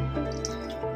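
A little water splashes and drips into a cooking pot holding lauki mutton korma with turmeric and salt, a short, close, soft liquid pour with no talking.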